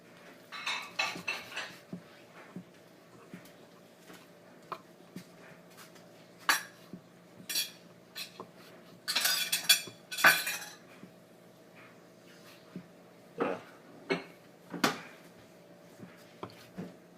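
A kitchen knife cuts thin vegetable pieces in half on a board while a sesame pork broccoli pasta dish is made. Faint, scattered taps and clinks come at irregular intervals, with a few quicker clusters of cuts.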